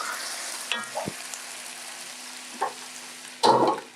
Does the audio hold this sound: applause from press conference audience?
no